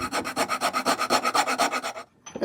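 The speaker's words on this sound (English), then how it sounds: "This rasp should make quick work of straightening this out." A hand rasp files scrap wood in about sixteen quick, even rasping strokes, loud and close, then stops short.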